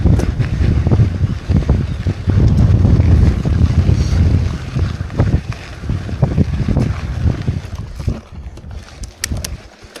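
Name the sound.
strong wind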